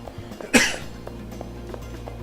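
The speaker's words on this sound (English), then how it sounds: "So sorry about the coughing." One sharp, close cough bursts out over a quiet background with faint game sounds, then fades, leaving low humming and small ticks.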